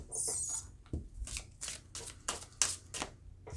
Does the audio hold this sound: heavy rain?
no